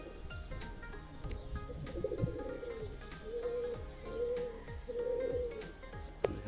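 Pigeons at a home loft give several low, drawn-out coos in a row, moderately close, over a steady background of ambient noise and faint clatter.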